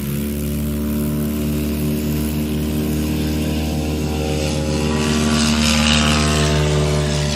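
Short-takeoff propeller aircraft at a Lonestar STOL practice event departing: a loud, steady propeller and engine drone with strong harmonic hum, swelling slightly toward the end, no voices heard.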